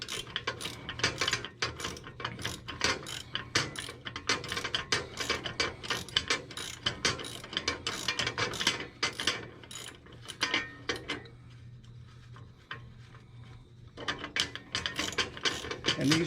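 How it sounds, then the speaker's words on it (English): A 15mm wrench ratcheting on the steering of a John Deere LA105 lawn tractor, a close rapid series of sharp clicking strokes in repeated bursts with a brief pause near the end, no speech. "you're going to use a 15mm wrench to go on the back to hold this in place."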